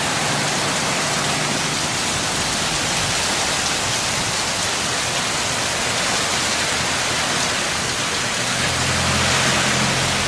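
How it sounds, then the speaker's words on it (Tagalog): Heavy rain pours down in a steady, dense hiss that fills the whole stretch evenly and closely, with no voices and a slight swell near the end. "Malakas ang ulan."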